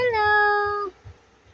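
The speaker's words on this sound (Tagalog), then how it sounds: "tungkol po sa mga pusa, yung mga meow-meow namin na maliliit" A small stray cat gives one long, clear, drawn-out meow close by, fading into quiet room noise.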